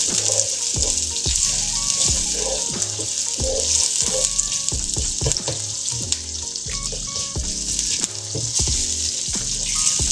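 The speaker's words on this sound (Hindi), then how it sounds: "चलो रानीदा की से अच्छी तरह भून लेते हैं प्याज को।" Onions sizzling and frying steadily in a hot pan for a vegetable rice dish, with repeated stirring clinks and scrapes throughout; loud and close, no talking.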